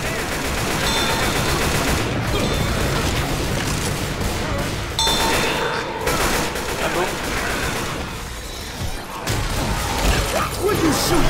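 Dense gunfire in the Left 4 Dead 2 No Mercy versus map, rapid bursts of shots with metallic clinks running nearly continuously and loud throughout, with people talking over the shooting.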